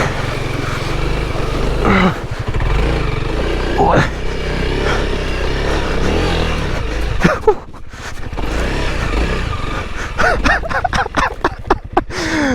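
A Honda CRF300L dual-sport motorcycle rides off-road through a trail obstacle, its engine droning steadily and near throughout, with sharper revs and bursts of wind and debris noise toward the end; a rider talks over it.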